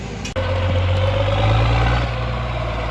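A big farm tractor's diesel engine runs steadily close by, with a low rumbling drone and a brief dip early on before settling into a constant idle.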